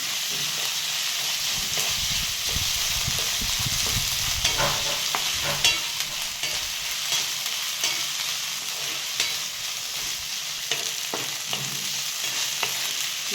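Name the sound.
onion frying with ginger-garlic paste in pan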